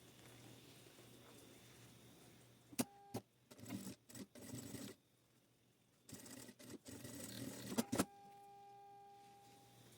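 A sewing machine stitches down a small handle strap on a backpack in a few short, close bursts of whirring, separated by pauses with faint clicks and handling noise.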